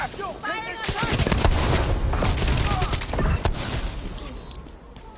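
Rapid bursts of automatic gunfire in the video game The Division 2, dense overlapping shots cracking continuously with sharp individual reports, and voices faintly mixed in.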